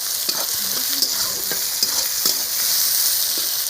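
Cardamom, cloves, cinnamon and dried red chilli sizzle in hot oil for tempering, a steady close frying hiss with scattered stirring clatters and small pops, no voices.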